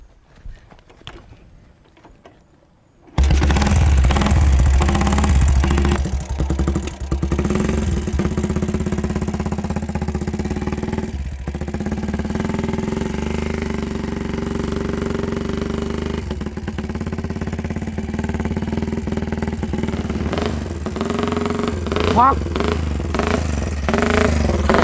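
A motorcycle engine starts up after a quiet moment, then idles and revs loudly and continuously nearby, with brief rising bursts of throttle.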